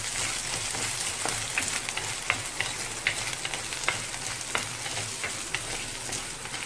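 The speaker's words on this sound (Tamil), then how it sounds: "வெங்காயமும் எல்லாம் நல்லா வணங்கிருச்சு" Onions stir-fry in a pan for a banana flower stir fry, a steady close sizzle broken by frequent small crackles and pops as they are stirred, with no talk.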